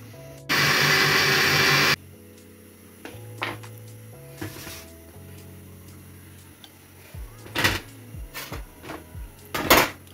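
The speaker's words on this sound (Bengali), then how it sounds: "এটা এখন ব্লেন্ড করে নিব।" A blender whirs loudly for about a second and a half, mixing sugar, milk powder and eggs for a pudding, then cuts off and gives way to scattered kitchen clatter and soft knocks of utensils.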